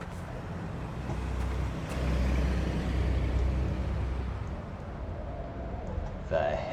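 Low engine drone from a passing plane or vehicle rumbling overhead amid howling wind on a coastal island in the game Dear Esther, swelling in the middle and fading, with a brief brighter burst near the end.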